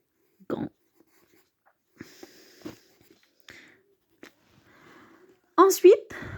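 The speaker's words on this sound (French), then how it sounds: "on va écrire ici" Marker or chalk strokes on a board in a French lesson, a scattering of short, faint scratchy taps, with a voice talking at the end.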